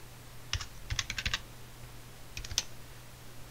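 Light typing on a computer keyboard while building a WordPress page, heard as two short bursts of quick, quiet clicks separated by a pause, against a low steady hum.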